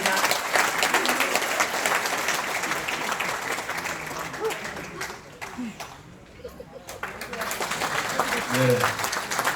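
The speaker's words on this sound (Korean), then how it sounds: "큰 박수로 맞이해 주시기 바랍니다" Audience applause welcoming a National Assembly deputy speaker to the podium at a Liberty Korea Party members' meeting and June 25 special lecture event, steady dense clapping that dips briefly mid-way and swells again, with faint voices underneath.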